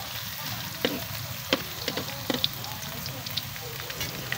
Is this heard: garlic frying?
yes